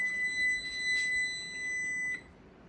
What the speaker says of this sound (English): And that is the timer.